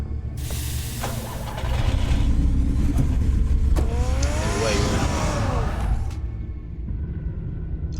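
A car in Batman: The Telltale Series pulls away with a loud engine roar that builds and holds for several seconds before dropping off, with a hissing whoosh layered over it.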